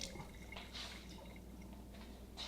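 A kitchen tap drips after the water is turned off, several soft, faint drops landing one after another at an uneven pace in a quiet room.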